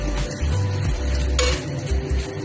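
Chopped garlic is stirred in a kadai for chilli chicken, a metal spoon scraping and clinking against the pan with a few sharp knocks over a light sizzle.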